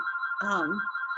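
A telephone rings during a noon class, a steady electronic tone sounding throughout with a brief burst of a voice in the middle.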